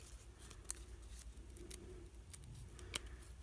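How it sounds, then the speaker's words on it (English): Scissors snipping through folded paper for a lace-style cut-out craft, a few soft close cuts and light rustles over a quiet room hiss. "So you just have your square, and you just fold it and then cut on the folds."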